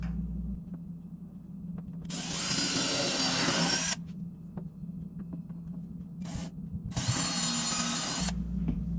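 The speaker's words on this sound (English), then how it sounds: "now we're going to drill two pilot holes, one at the bottom and one at the top" A power drill bores two pilot holes into a wooden cabinet filler, two long whining bursts of drilling with a short blip between, close and loud over a low steady hum.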